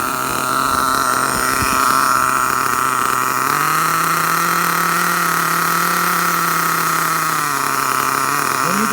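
A new nitro engine in a Dynamite .28-powered RTR RC car runs steadily at a loud, continuous idle during break-in, its pitch rising slightly midway for a few seconds before settling back, with no talking.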